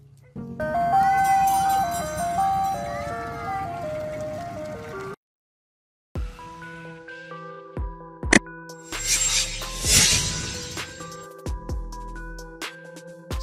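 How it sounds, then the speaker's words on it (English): A food truck plays a tinkling, bouncing jingle, then after a brief pause comes engine noise with scattered clanks and knocks nearby. "Food truck."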